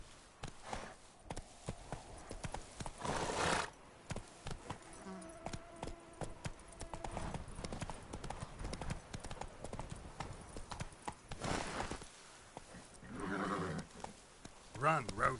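Roach, the horse from the video game Witcher 3, clip-clops along in repeated hoof bursts with a whinny, while a person talks over the hoofbeats.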